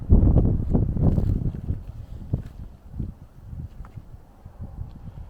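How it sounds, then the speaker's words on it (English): Strong gusty wind buffets the microphone outdoors, rumbling in heavy bursts that ease and return. "I'm trying to stop everything blowing away here because it's so windy."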